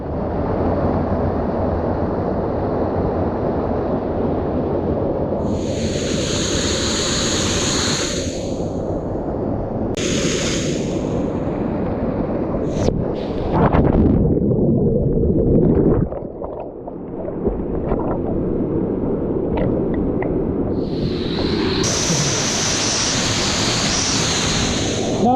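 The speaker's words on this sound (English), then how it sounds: "show you how amazing Esk Falls is at the top of Eskdale Valley" Esk Falls, a waterfall at the top of Eskdale Valley in the Lake District, gives a steady, loud broadband rush of falling water that continues throughout, with brief splashy bursts mixed in near the middle.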